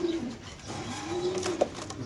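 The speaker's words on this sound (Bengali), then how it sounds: "গ্রিজেল কবুতর।" A large grizzle pigeon in a cage at a pigeon farm coos in a soft, low, drawn-out call, close by, over a steady background hum with no talking.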